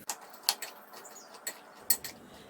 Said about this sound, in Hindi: मखाने ठंडे हो चुके हैं। अब इन्हें दही में डालेंगे